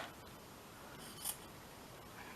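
Scissors snip through cheesecloth in a quiet room: one short, crisp close cut, with a faint click near the end.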